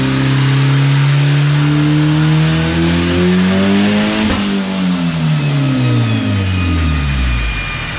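A turbocharged four-cylinder Mustang makes a hard pull on a dyno, the engine loud and close, revving steadily upward, then dropping sharply as the throttle closes, with the revs falling away.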